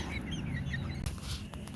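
A Buff Orpington rooster flaps its wings and hops up onto a lap, a brief burst of flapping close by over soft clucking from nearby hens on a farm.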